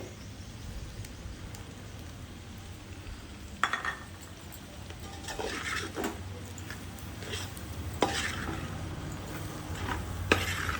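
A spoon stirs coriander powder into a simmering tamarind curry in a pot, with soft scraping and occasional sharper clinks against the pan over a low, steady sizzle.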